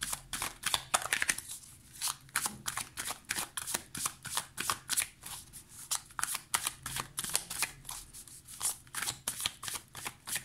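A Luna Somnia tarot deck is shuffled by hand, giving a long run of soft, rhythmic card flicks and riffles over about ten seconds, faint and close, with no voices.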